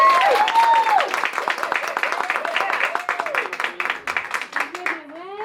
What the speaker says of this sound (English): Another round of applause for Emmanuel